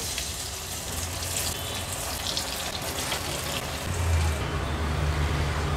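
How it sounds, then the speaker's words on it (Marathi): Methi vadi frying in hot oil make a dense, continuous sizzle and crackle with no voices, growing slightly fuller toward the end. "आता ह्या उरलेल्या वड्या मी त्याच पद्धतीने तळून घेणार आहे"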